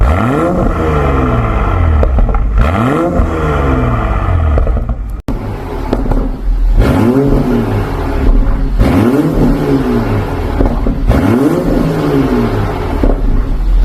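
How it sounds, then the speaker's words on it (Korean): A BMW X6 40i's tuned exhaust with carbon muffler tips revs repeatedly, deep rumbling swells rising and falling in pitch, loud and close with no talking. "카본 머플러 팁에서 나오는 배기음 멋있게 잘 나오는데요"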